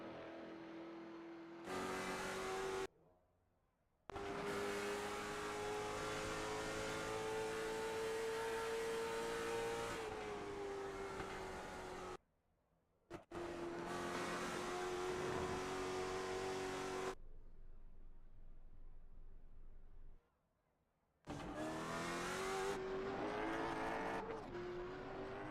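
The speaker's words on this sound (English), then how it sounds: "they're really winding these late models out at the end of these long" Late model race cars revving hard at the end of long straightaways at the Milwaukee Mile, sustained high engine whine rising in pitch in several separate runs broken by short silent gaps.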